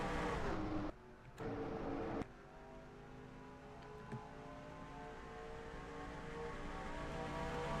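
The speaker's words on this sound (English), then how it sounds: "Cars getting up to speed right now as they go through turns 1 and 2." Race cars accelerating at Talladega in the NASCAR Racing 2003 video game, a steady rising engine drone from the pack, fairly loud and continuous, with brief breaks early on.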